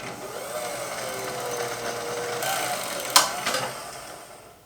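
A vintage Singer sewing machine, a Singer 201, runs with a steady mechanical whir, faint and close, ending in a few sharp clicks as it stops.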